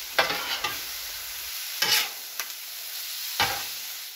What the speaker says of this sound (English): I'm just going to take my spatulas and mix, mix, mix.